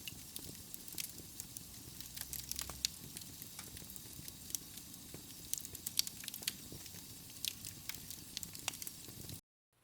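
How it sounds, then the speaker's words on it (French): A soft fire crackles quietly, scattered small pops and snaps over a faint hiss, continuous and close, then cutting to silence at the end. "Le feu crépite doucement."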